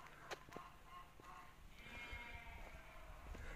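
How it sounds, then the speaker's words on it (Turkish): Sheep and goats bleat in short, scattered calls over a steady outdoor rumble near Şirinköy prison on Gökçeada, the animals at a moderate distance and fairly faint. "keçiler, koyunlar, buradan geliyor sesleri"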